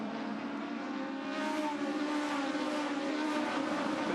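Aussie Racing Cars at Pukekohe race by on the track, a steady, loud engine roar that swells slightly as cars pass, with no voices over it.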